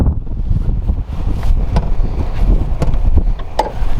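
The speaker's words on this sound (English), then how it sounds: "Man, it's getting windy today." Wind buffets an outdoor microphone next to a 2022 GMC Yukon AT4, a steady low rumble running the whole time with a few brief clicks and knocks over it.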